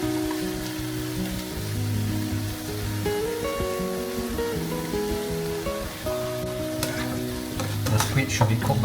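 Seasoned squid stir-fries in a wok for a dish with bean sprouts, giving a steady close sizzle with ladle scrapes and clinks that grow busier toward the end, with no talking.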